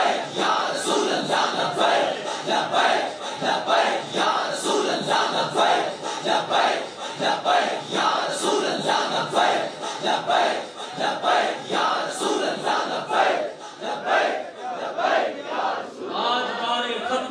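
A large crowd chants the religious slogan Labbaik Ya Rasool Allah at a gathering, many voices shouting together in a loud, steady rhythmic roar that carries on without pause.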